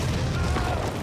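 A low, rumbling boom from an explosion in the medieval video game Kingdom Come: Deliverance 2, a dense roar that fills the whole second without letup and stays loud throughout.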